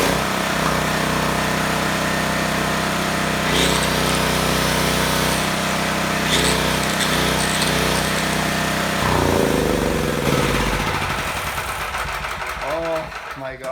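A worn yard-sale Champion generator engine runs steadily and loudly with a dense mechanical clatter, its tone shifting partway through as the load or throttle changes, while a ventilation fan adds to the noise.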